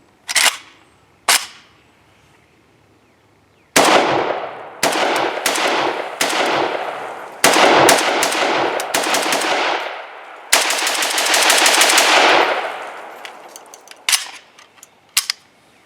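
A Romanian Cugir WASR-10/63 AK rifle emptying a magazine outdoors: a couple of isolated shots, then a rapid, loud string of close gunfire with ringing echoes, a pause and a few final shots.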